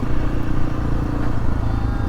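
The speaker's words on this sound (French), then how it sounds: "4 gamins sur une moto" A small motorcycle carrying four kids passes through traffic on a road in Koh Lanta, its engine a loud, close, rough drone with clattering, alongside other vehicles.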